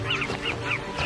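Carmine bee-eaters, among the first few hundred to gather for breeding in Zambia's Luangwa Valley, give four short, rolling calls in an even rhythm, fairly near and clear over a low background hum.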